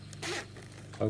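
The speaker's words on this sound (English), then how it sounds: "Open your zip." A zipper on a ladies boot is pulled open in a short quick rasp, close and fairly quiet, ending with a soft clunk.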